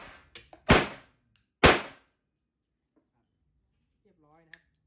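Two sharp, loud blank shots from a Kuzey Colt M1911 Government-model blank pistol ring out close by in quick succession, followed by faint mechanical clicks and a brief voice near the end.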